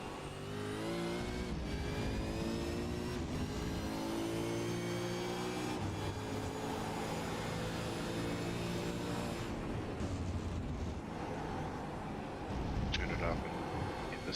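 A V8 Supercar engine screams past at a New Zealand championship race, its high revs climbing and shifting while trackside commentators talk over it. The roar stays loud and steady, fading slightly near the end.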